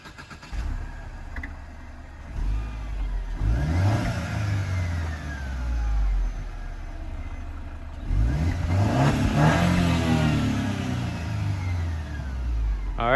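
A Mercedes C250 engine with an exhaust leak revs up twice, rising and falling in loud bursts with a raspy, blatty exhaust note, idling roughly in between.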